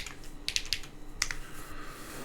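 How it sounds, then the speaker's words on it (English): Quick bursts of typing on a Frog Mini mechanical keyboard with KKB Violet on Cream switches, an aluminium plate and KeyGeek B1 keycaps, bright close clacks in two short clusters, no talk. "this is a Frog Mini with KKB Violet on Cream with an alu plate and KeyGeek B1s"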